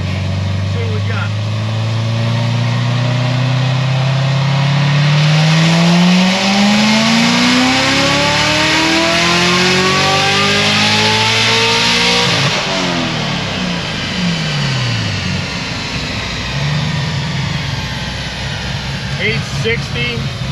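A Stage 4 C7 Corvette Z06 making over 900 rear-wheel horsepower revs hard, its engine note sweeping up steadily before dropping off and settling, loud and close, with people talking over it.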